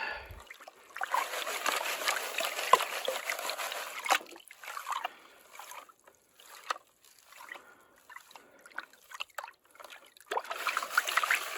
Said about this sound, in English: I do the swashing around, and then I stick it down in the water